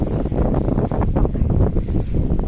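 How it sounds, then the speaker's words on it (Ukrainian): Strong autumn wind roars and buffets the microphone continuously outdoors in a garden, a loud low rumble with no voices. "Вітер такий піднявся"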